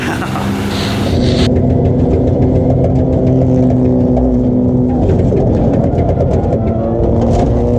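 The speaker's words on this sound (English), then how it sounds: "that engine sounds pretty dramatic" A loud race car engine drones and revs steadily close by at a LeMons race, a constant mechanical roar with some muffled voices mixed in.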